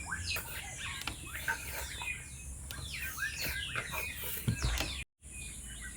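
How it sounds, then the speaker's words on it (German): Many small birds chirp and twitter continuously in an outdoor chorus, with a brief dropout near the end. "ich knete jetzt mal noch ein bisschen und höre dem Vogelgezwitscher zu"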